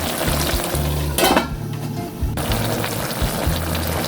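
Mixed vegetables sauté in a hot pan, a steady loud sizzle and crackle with brief stirring or lid clatter midway, no talking over it.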